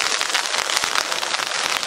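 Steady rain pours down outdoors during an ultraskate race, a dense, even hiss of drops hitting the surface with no voices over it.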